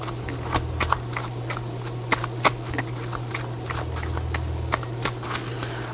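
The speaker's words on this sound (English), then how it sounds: "Deck shuffled, Mr. Shatner." Cards riffled and shuffled repeatedly, a soft papery flutter with sharp clicks, close by, over a low steady hum.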